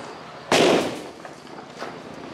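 A firecracker bursts once during Diwali with a loud, sharp bang close by, followed by a fading rumble and faint background noise.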